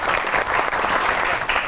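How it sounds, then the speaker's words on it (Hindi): A studio audience claps for a guest doctor's entrance on a comedy talk show, a brief, dense burst of applause at steady loudness. "तो आपकी बहुत सी तालियों में the one and only doctor"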